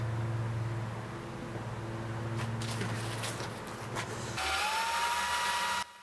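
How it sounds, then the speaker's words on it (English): A power drill whirs steadily, then its pitch rises into a high, strained whine as it bites into 2-inch steel tubing before cutting off. "This process here shows us going through the drilling of the steel, the 2-inch steel tubing"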